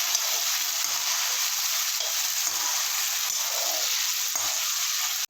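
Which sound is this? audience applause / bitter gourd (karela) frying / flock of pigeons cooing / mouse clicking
bitter gourd (karela) frying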